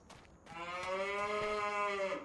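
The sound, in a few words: Angus cows mooing, from video game Farming Simulator 25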